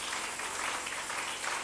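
An audience applauds at a French-language church sermon, a dense, even wash of clapping that sounds fairly distant and soft and lasts under two seconds.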